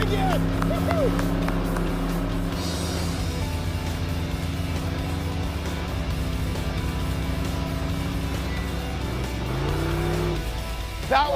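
Custom car engine idling and running with a steady low rumble and a few revs, heard near, with people talking and cheering over it.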